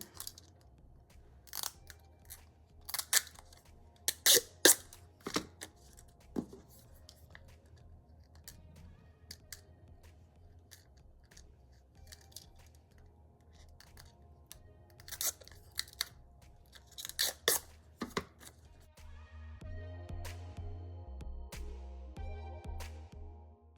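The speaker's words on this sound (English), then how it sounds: "I'm just using my weeding tool and then I'll just peel the plastic away" Protective plastic film is picked loose with a weeding tool and peeled off an acrylic ornament blank, giving scattered sharp crackles and ticks close by, followed by a steadier low rustle at the end.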